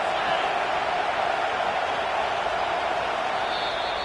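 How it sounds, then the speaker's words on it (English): A stadium crowd roars steadily and loudly at a college football game between Michigan and Auburn, a dense continuous wall of noise without distinct breaks. "This crowd trying to make life miserable for this offense."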